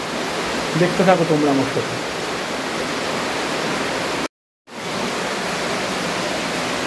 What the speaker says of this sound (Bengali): কেভের ভেতর দিয়ে যে জল বয়ে যাচ্ছে তার একটা সুন্দর আওয়াজ পাওয়া যাচ্ছে।